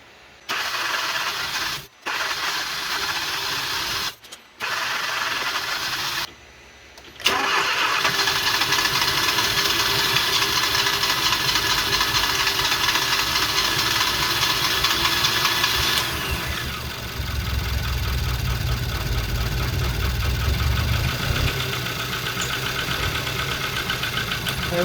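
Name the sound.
car engine starting and running rough after oil treatment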